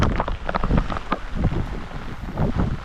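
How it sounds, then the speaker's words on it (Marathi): Strong wind from a monsoon storm in the Konkan region buffets the microphone in loud, continuous gusts, roaring and rumbling without letup. "खूप आहे वादळ नुसताच"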